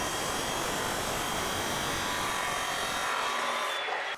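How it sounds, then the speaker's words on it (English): A chop saw cuts through 1-inch square steel tube with a continuous loud, harsh grinding whine that holds steady and then drops away abruptly near the end. "Chop them on the chop saw."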